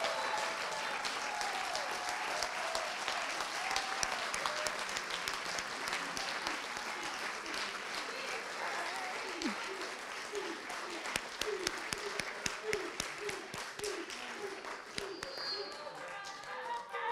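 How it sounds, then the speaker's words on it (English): A large audience gives a sustained round of applause for an honoree marking 18 years, dense clapping that carries on steadily throughout with a few louder claps and faint voices mixed in. "Can you please get up and give a round of applause to Steve?"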